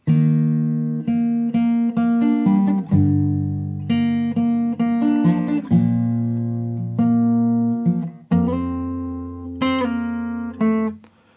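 A plucked acoustic guitar with a capo plays a gentle melodic intro, single notes ringing over sustained bass notes, clear and close with no voices.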